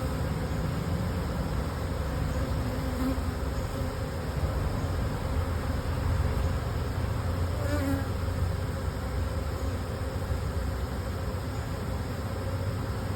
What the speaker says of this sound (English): There's not as many bees on this frame as I would like to have seen.